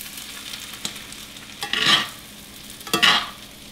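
Potatoes sizzling in a frying pan, a low steady fry under two louder scraping swishes as they are stirred, close and fairly quiet.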